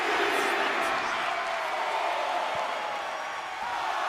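A wrestling arena crowd cheers and roars in a sustained wash of noise that stays broad and steady throughout, with no distinct voices standing out.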